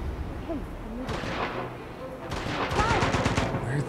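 Rapid bursts of gunfire in the video game Uncharted: Golden Abyss crackle in two clusters, loud and dense, with a voice talking over them.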